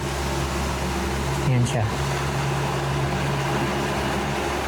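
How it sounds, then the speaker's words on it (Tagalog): A steady broadband hum of an electric fan running close behind the speaker, continuous and fairly loud beneath a man's brief speech. "Naka-on yung electric fan sa likod ko."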